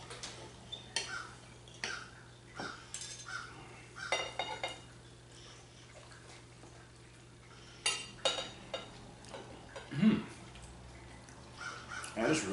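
Forks and knives tap and scrape on plates as people eat baked apple pancakes, giving scattered light clinks at an uneven pace over a faint steady hum, close and quiet.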